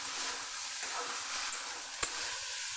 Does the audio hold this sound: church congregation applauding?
no